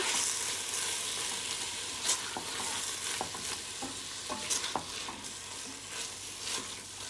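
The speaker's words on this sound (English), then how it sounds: "We're gonna mix that tomato paste in." Tomato paste stirred into a lamb stew base, a soft continuous sizzle with scattered spoon scrapes and knocks against the pot at an irregular pace, fairly quiet and close.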